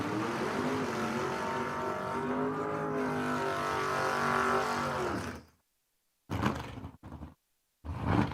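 Drag race cars, one a black Mustang, launch at a dragstrip with a loud, sustained engine roar that climbs in pitch for about five seconds, then cuts abruptly to silence broken by short bursts of engine noise.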